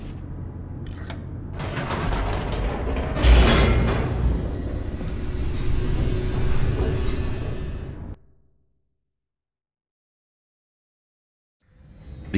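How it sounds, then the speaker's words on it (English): An elevator descends in The Stanley Parable with a heavy mechanical rumble and clanking that swells to a loud peak, holds, then cuts off abruptly into near silence before a faint rumble returns at the end. "The elevator raced downward, plummeting towards an unknown fate."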